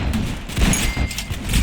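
Submachine gun spam fire in a Roblox video game: a short, steady stream of rapid, muffled game shots at moderate loudness, with no pause in between.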